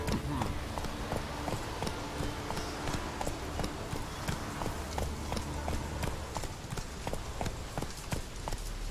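Roach the horse gallops in The Witcher 3, with steady rapid hoofbeats thudding close and continuous under game ambience, without a break.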